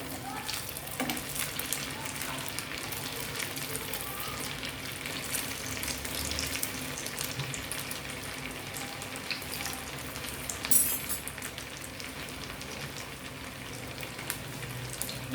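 Aloo tikki patties frying in a pan just after being flipped, a steady moderate sizzle and crackle of hot oil that continues evenly throughout, with a brief louder spatter partway through.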